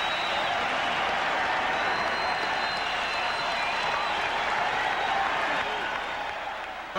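Steady applause and crowd noise fill a basketball arena at Boston Garden during a Celtics-Bulls timeout, a dense, continuous wash of clapping that holds for several seconds before easing slightly at the end.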